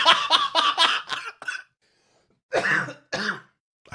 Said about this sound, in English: I cannot laugh tonight without coughing.